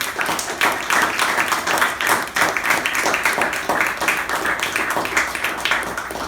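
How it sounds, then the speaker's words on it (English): Steady, loud applause from a crowd, continuous clapping filling the whole stretch without letting up. "we will give a special round of thunderous round of applause"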